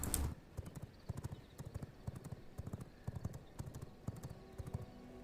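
Rhythmic clip-clop of horse hooves at a steady gallop in the video game V Rising, a continuous quick beat starting after a brief thump, moderately loud with no talking.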